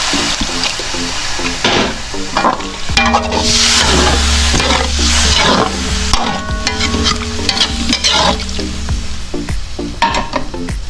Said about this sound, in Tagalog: Konting water lang. Yan, lalagay tayo ng water.